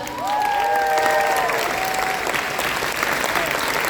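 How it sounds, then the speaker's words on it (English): An audience at an anime convention panel breaks into sustained applause with a few cheers, while voices briefly rise over the clapping near the start. "Give him a big round of applause."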